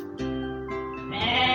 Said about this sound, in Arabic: خراف